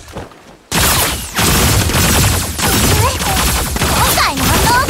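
Loud bursts of rapid gunfire in the video game Super Mecha Champions crackle and boom over several seconds, dense and overlapping, following a brief quiet moment at the start.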